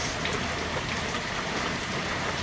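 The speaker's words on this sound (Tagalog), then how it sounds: "lumalakas naman ng ulan" Dense, steady rain pattering hard on surfaces nearby, a constant loud hiss with no voices.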